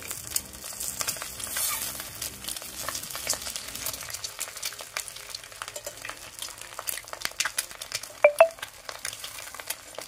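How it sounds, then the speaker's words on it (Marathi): Eggs for egg masala frying in a pan, a steady close sizzle with scraping stirs and turns, a couple of sharper utensil clinks near the end. "एक अंडा परतून बघू शकता, इथे थोडासा लालसर कलर आलेला आहे"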